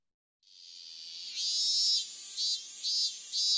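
Minminzemi cicada in Japan sings alone: a loud, shrill buzzing that swells in and then pulses in a steady repeating rhythm, close by.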